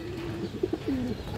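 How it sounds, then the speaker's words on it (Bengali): Imported brand-line pigeons give soft, low coos with a short rising and falling call, faint and close over steady background noise. "এগুলো সব ইম্পোর্টেড ব্র্যান্ড লাইনের কবুতর"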